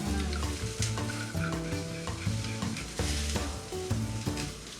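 Ginger juice sizzles in a frying pan as a continuous hiss, heard beneath prominent rhythmic background music with a steady beat.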